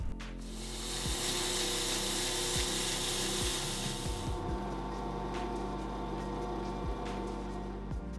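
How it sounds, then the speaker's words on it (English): Sandpaper polishes the high spots of a spinning metal bolt on a lathe, a steady motor whine under a bright, hissing abrasive rasp that eases off partway through, with occasional clicks. "so I stuck it in the lathe and, using some sandpaper, I polished the high spots"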